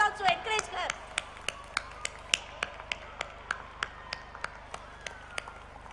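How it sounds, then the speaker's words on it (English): Steady, evenly spaced claps ring out at a school annual day prize distribution, sharp and distinct rather than a dense roar, fading slightly toward the end after brief talking at the start. "Give a big applause to encourage her."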